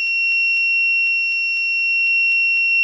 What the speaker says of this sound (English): This is the buzzer.